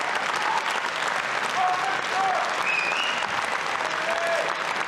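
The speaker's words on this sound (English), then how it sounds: "A round of applause for Pina" Audience at a bodybuilding contest, the NABBA Universe Miss Figure event, applauding steadily, a continuous wash of clapping heard from a moderate distance, with faint voices underneath.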